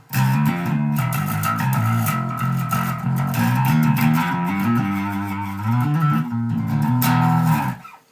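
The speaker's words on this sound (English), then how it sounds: "So we can get a little distortion going." A distorted electric bass, a 1987 Jaydee Roadie, plays a steady, loud riff with a gritty, fuzzy tone, sustained notes shifting pitch throughout, no voices.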